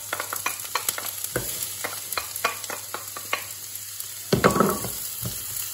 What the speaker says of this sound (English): the onions have to fry for 10 minutes until they have completely softened